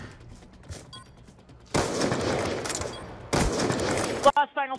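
Light machine gun fire from Black Ops 2 breaks out in loud, dense sustained bursts, separated by a short pause, then cuts to a few clipped tonal blips.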